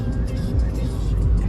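A car launching hard from a standstill in sport mode on the streets of Saint-Tropez gives a deep, close, loud engine rumble that holds steady through a brief moment.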